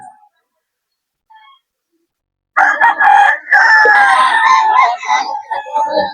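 Young stag roosters at a farm breeder in Bocaue crow loudly and close by, overlapping calls after a near-silent start, with scattered clucks and some background noise.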